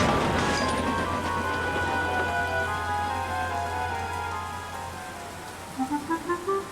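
Steady rain pours down in a dense, continuous wash in a Thomas & Friends episode, with a low rumble underneath and a few rising tones near the end.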